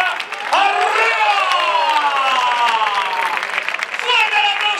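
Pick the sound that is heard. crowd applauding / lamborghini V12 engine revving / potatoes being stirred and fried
crowd applauding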